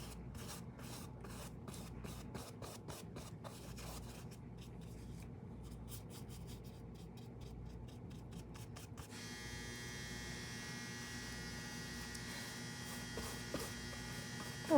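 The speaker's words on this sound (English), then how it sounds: "That is my dryer, which I'm not caring about right now" A household clothes dryer runs steadily in the background. It makes a low, continuous hum with a scratchy, rubbing rattle layered on top, faint and unchanging throughout.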